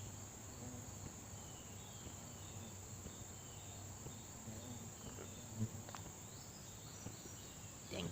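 Crickets and other insects chirp outdoors near a cathedral, a faint steady high-pitched drone with light scattered ticks, continuous and distant-sounding.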